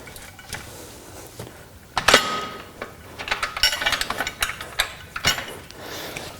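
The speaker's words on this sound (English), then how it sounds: "Hear the click, lock it in and screw up." On a Powertec compact home gym, a metal bar slides into a lower setting and locks with a sharp click, followed by a flurry of rattling, ratcheting metallic clicks and knocks at close range.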